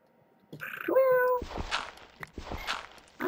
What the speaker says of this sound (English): I know, little kitty.